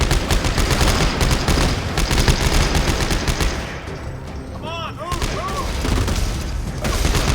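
Weapons fire in the sci-fi horror game Dead Space 3: dense, loud bursts of rapid gunfire dominate, ease off briefly mid-way, then resume, with a player's voice talking over parts of it.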